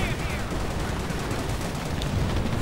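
Gunfire crackles through a WWII strategy video game battle as an anti-tank gun is assaulted, with dense overlapping shots and bursts forming a continuous loud barrage.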